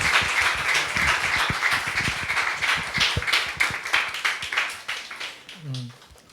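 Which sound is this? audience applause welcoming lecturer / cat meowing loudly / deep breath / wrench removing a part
audience applause welcoming lecturer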